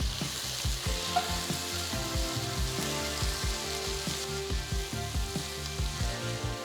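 Thinly sliced tomatoes and chopped green chilli sizzle in a pan while being stirred, a continuous crackling fry punctuated by regular scraping and stirring strokes, close and fairly loud with no talking.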